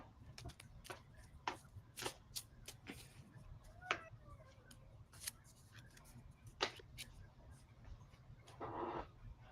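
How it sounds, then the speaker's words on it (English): Tarot cards shuffled by hand produce a quiet run of soft, papery riffles and sharp clicks, irregular and close, with no one talking. "I shuffled my cards"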